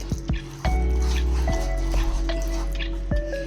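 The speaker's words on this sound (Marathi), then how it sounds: "आता ह्याच्यात आपण थोडं पाणी मिक्स करणार आहोत." Water goes into an egg-white batter for crispy fried chicken, producing a few distinct drips and splashes over a low, steady background hum.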